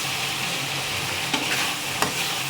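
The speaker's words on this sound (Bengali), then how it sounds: "যে তেলের উপরে এসে গেছে, এবার দিয়ে দেব মাছ" Lote fish goes into a hot spice paste fried in oil. A loud, steady sizzle fills the clip, with a couple of brief clinks and stirring scrapes partway through.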